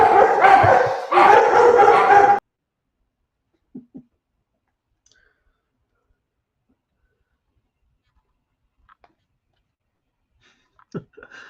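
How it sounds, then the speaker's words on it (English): Dogs bark and whimper in a dense loud burst at the start, followed by long quiet stretches broken only by a few faint, brief yips and small sounds near the end. "calming down the dogs, the animals"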